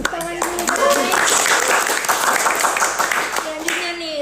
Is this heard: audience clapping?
yes